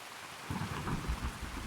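Steady rain with low rumbling thunder during a storm in the video game Escape from Tarkov, a constant wash of rainfall beginning after a brief quiet moment, with deep rolls building underneath.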